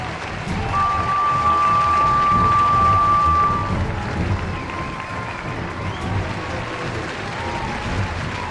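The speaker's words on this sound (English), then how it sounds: "They waved and shouted, cheering Edward on." A railway crowd cheers and shouts in a dense, steady wash of voices with a long whistle tone early on, moderately loud and continuous.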